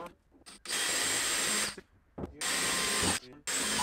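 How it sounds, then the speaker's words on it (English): Power drill boring holes into the corners of a homemade compost tumbler, two long whining bursts of steady motor noise separated by a brief pause, close and loud with no speech. "We're gonna get started by just drilling holes at the four corners."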